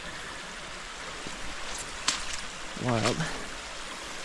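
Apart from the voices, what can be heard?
shallow stream water flowing over rocks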